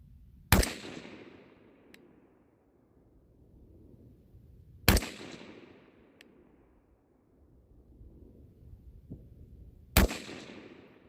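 Three sharp, loud rifle shots from an 18-inch 6.5 Grendel fire about five seconds apart outdoors, each a sudden crack followed by a rolling decaying echo, with no talk between them.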